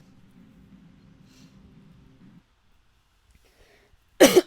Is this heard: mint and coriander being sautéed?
no